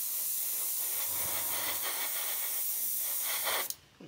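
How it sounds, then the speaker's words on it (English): An aerosol can sprays metallic paint lightly over a plastic model, giving a continuous close hiss that holds steady for several seconds and then cuts off abruptly near the end. "I'm going to spray very, very lightly over this."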